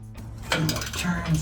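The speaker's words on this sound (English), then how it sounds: "we're just going to bolt this on again with that 5/16 socket" A ratchet wrench with a 5/16 socket tightens a bolt on an MBRP Armor Lite cat-back exhaust on a 1999-2004 Mustang GT, giving close, light metallic clicks and clinks in short irregular bursts.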